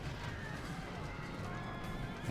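Horses neighing and whinnying amid clip-clopping hooves in a Rome: Total War Barbarian Invasion battle, a faint, steady game-mix din running throughout with no voices.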